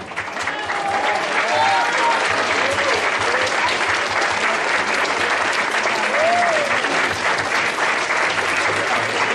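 Audience members at a school event applaud steadily in thanks to participants and teachers, the clapping loud and continuous, with scattered voices and whoops rising above it.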